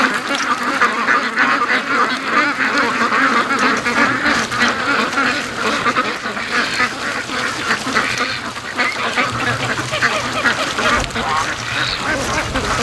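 A morning rush of free-range ducks quacking loudly and nearly nonstop, close by, with geese honking among them in a busy, overlapping chorus that lasts throughout.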